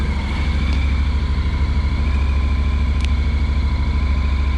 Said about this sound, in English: Now the Thunderbox is showing that the engine is running